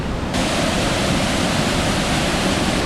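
Water rushing down into a deep chasm in remote wilderness, a loud, steady, roaring wash that fills the whole stretch without a break.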